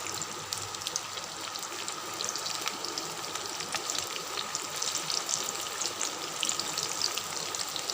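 Beef kofta balls frying in a pan of hot oil, a steady close crackle and bubbling sizzle running throughout with small pops, no voices.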